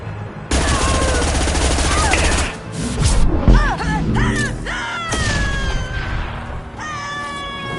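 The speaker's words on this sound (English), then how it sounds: "Firing concussive shot!" A burst of heavy gunfire and explosive impacts in Mass Effect 2 combat, with a loud concussive blast followed by rapid shots, whistling ricochets and shouting voices.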